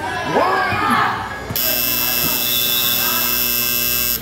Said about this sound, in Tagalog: that's the buzzer end of the second quarter